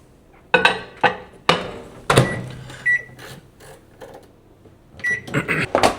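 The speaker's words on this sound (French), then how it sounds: "130 grammes, 135 grammes de flocons d'avoine. Ça part 3 minutes au micro-ondes." Oat flakes, about 130 grams, heating in a microwave oven, with a series of sharp clunks and knocks from the door and turntable, a brief electronic beep and a short hum, all fairly close with no talking.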